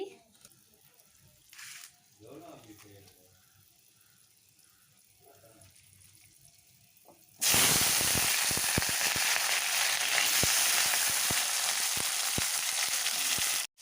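Loud, close sizzling of potato, cauliflower, stalks and tomato hitting hot oil for a vegetarian Bengali chorchori, bursting in about halfway after quieter kitchen clatter and soft voices, then crackling steadily to the end.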